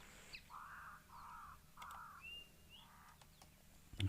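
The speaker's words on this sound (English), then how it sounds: "Cape crows as ever." A crow gives several hoarse, nasal caws in a loose series, fairly distant, with quiet outdoor background and a soft thump at the end.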